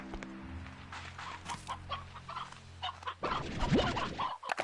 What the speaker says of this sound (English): That is a stony hen.